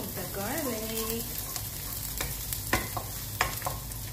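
Garlic sizzles and fries in a pan while it browns for Korean chicken wings, a steady crackling hiss punctuated by a few sharp clicks of stirring, with a brief murmur of voice near the start.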